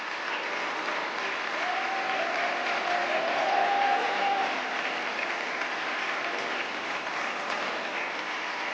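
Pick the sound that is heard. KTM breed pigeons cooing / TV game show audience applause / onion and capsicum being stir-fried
TV game show audience applause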